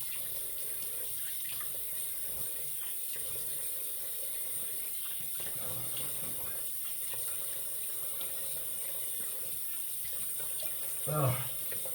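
Tap water runs steadily into a sink while the face is wetted for a wet shave, a constant quiet rush close by with a brief splash near the end.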